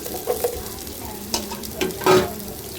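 Mustard seeds, curry leaves and thinly sliced onion fry in hot oil with a close, continuous sizzle, broken by a few louder spatters and stirring scrapes.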